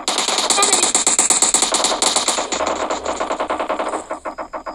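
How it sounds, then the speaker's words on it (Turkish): Rapid automatic gunfire rattles nonstop through a video game firefight, loud and close, its dense bursts thinning slightly toward the end. "Yok çatışma çıktı lan bu ne?"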